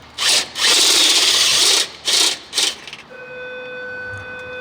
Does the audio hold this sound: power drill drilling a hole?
yes